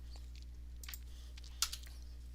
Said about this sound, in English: My keyboard is not working.